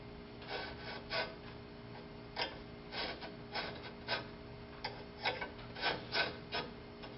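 A scribe is drawn across a car hinge near the frame to mark a line beside a failed factory plug weld, making about a dozen short, dry scratching strokes in an uneven rhythm, close and quiet.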